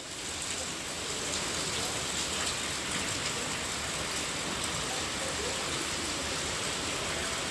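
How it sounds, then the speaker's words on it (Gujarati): Heavy rain pours steadily, a loud, unbroken wash of hiss and patter on surfaces close by, with no one speaking. "વરસાદ અત્યારે ફૂલ ચાલુ થઈ ગયો"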